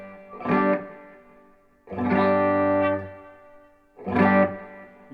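Electric guitar through Wilkinson Classic Tone ceramic PAF-style humbuckers with gain, bright and pingy, played as three separate chords or phrases that ring out and stop, with a sustained middle one; no talking.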